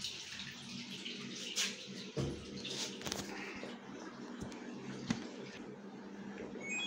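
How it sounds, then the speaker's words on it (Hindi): An LG washing machine drains its water after a drain motor repair, giving a steady rushing, gurgling flow with a few soft clunks and knocks throughout. "पानी ड्रेन होना शुरू हो गया"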